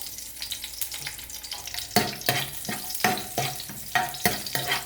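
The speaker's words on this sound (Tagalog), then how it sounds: "Igigisa natin sa bawang." Vegetables sautéed with garlic in a hot pan for a low-carb dish, a steady sizzle punctuated by a run of sharp, fairly loud scraping stirs that quicken in the second half, with no speech.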